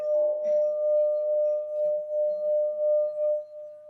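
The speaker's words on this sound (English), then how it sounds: "Should I play my sound bowl for you" A sound bowl rings with a steady, pure sustained tone that pulses gently as it is played, holding for several seconds before tapering off, with brief faint voices early on.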